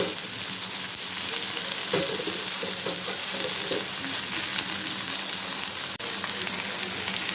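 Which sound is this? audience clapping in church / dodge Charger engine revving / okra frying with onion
okra frying with onion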